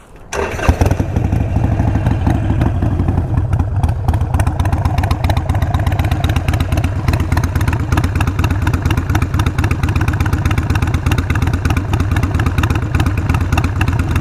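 A Harley-Davidson Iron 883 with a Vance & Hines exhaust with big radius and standard baffle starts up and keeps running, a loud, steady, close engine rumble with rapid pulsing firing beats throughout and no voices.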